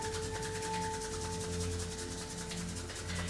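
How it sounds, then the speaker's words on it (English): Palms rubbing against each other produce a steady, dry, close-up friction hiss that continues evenly without pause, with a faint low background hum underneath. "as you rub your hands one into the other"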